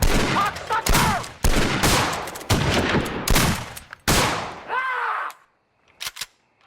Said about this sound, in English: getting the lot of them to unload their rounds into the woods